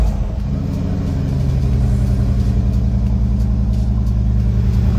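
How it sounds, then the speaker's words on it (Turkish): A 2015 Mercedes G-Class engine in eco mode climbs into a steady, loud rev as the throttle is pressed lightly, its low harmonic drone holding close and continuous without talk. "hozir gaz ozgina bosib ko'ramiz."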